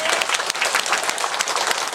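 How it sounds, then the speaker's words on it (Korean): Loud, close applause from a lecture audience at a Diamond Sutra talk, thick, continuous clapping with no pauses across the whole short stretch. "왜 박수도 안 치노?"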